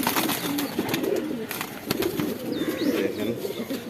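Pigeons in a home loft in Hemayetpur coo in low, rolling phrases, with a brief flutter of wings, soft chirps and faint background voices.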